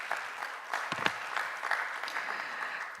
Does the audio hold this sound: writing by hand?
no